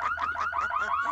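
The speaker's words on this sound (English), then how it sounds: "Alright, at least we do have a burglar alarm." A burglar alarm blares in The Sims 2, a loud, rapidly warbling siren that repeats its rising sweep several times, steady and close, with no talk over it.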